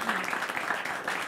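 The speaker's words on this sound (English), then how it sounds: "Applause for our speakers." Audience at a live-streamed innovation talk applauds the speakers: a short, steady wash of clapping from a crowd, fairly even in loudness throughout.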